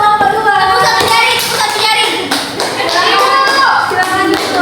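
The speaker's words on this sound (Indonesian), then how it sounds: "tepuk tangan untuk kelompok 2" Schoolchildren in a fourth-grade classroom clap for a group of classmates, loose patters of hand claps mixed with loud overlapping children's voices throughout.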